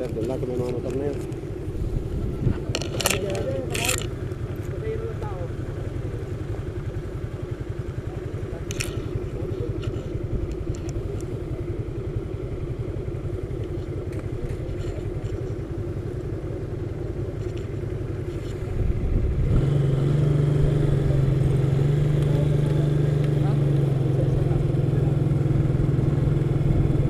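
Motorcycles idle and rumble at a pier while boarding a ferry from Occidental Mindoro to Batangas, a steady low engine drone throughout, with a louder sustained tone joining in near the end.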